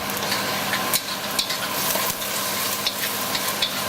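Garlic hits a pan of glazed onions and sizzles loudly up close, a continuous crackling fry dotted with small popping spits and the clack of a utensil stirring.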